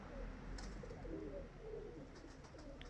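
Quiet, low cooing of male pigeons in a small loft rolls in soft repeated phrases over a steady background hum, with faint tapping sounds here and there.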